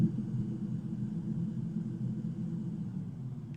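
Steady low droning engine rumble of a bomber aircraft approaching a runway in Bomber Crew, an even continuous hum with no talking.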